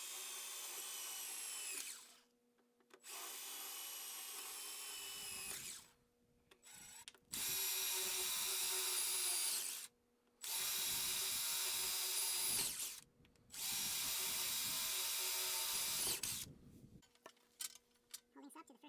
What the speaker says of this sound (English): I drill all the way through.